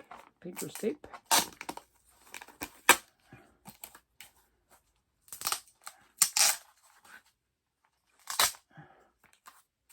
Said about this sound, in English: Let's see what's inside as I rip it open.